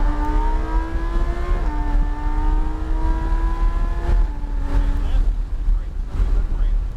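A Lamborghini engine accelerating hard at high speed, a steady rising drone that stays loud throughout, with gear-change dips between pulls, buried under strong wind rush.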